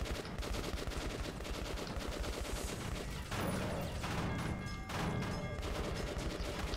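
Rapid, close gunfire from the video game Metro 2033 Redux rattles in dense bursts, with brief pauses between volleys.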